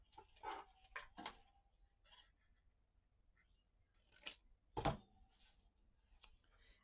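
Scissors snipping through paper stars for a patriotic craft banner, a few sharp, close clicks spaced irregularly with quiet gaps between them.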